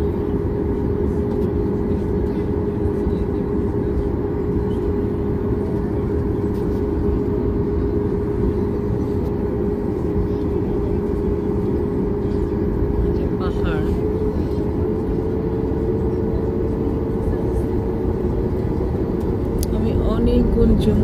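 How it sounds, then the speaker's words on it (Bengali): Airplane rolling down the runway for takeoff, a loud, steady engine roar with a strong low hum that holds constant throughout, heard from inside the aircraft with faint cabin noises. "প্লেনটা আবার চলতে চলতে আবার একটু থেমে গেল, মনে হয় এখন স্পিড বাড়িয়ে টেক অফ করে ফেলবে।"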